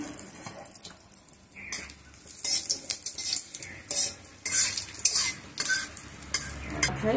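Bay leaf, cardamom and cinnamon get stirred in hot oil for flattened-rice pulao, a spoon scraping and clinking against the pan in uneven bursts over a light sizzle, close and fairly loud.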